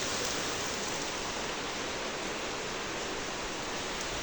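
A full downpour keeps up a uniform roaring hiss of rain, near and constant throughout, with no voices over it.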